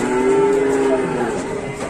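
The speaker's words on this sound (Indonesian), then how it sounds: "Ngamuk sapi yang ngamuk." An enraged, rampaging cow moos once, a long, loud, drawn-out low call close by.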